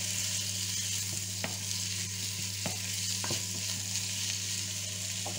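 Onion frying in a pan while it is stirred: a steady sizzle with a few sharp scrapes and clicks of the utensil against the pan, over a constant low electrical hum, with no talking.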